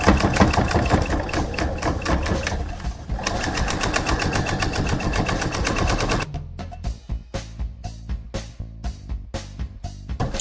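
A sewing machine stitches a skirt hem seam, running in a long fast continuous rattle for about six seconds, then switching to short stop-start bursts of stitching as the sewer inches toward the end of the seam.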